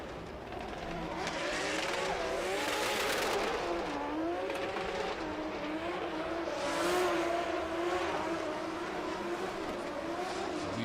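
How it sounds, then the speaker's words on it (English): Nissan S14 drift car rounding the final corner of a qualification run at a drift championship in Oman, its engine wailing steadily with rising and falling revs and tire squeal, loud and continuous throughout. "Peddling that S14 around the last corner and bringing it over the line is Ramsey."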